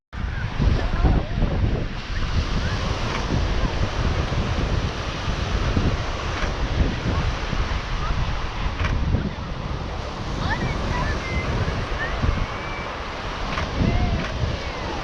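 Ocean surf and wind on a beach, a steady broadband wash of breaking waves with gusty wind buffeting the microphone throughout, fairly loud and continuous.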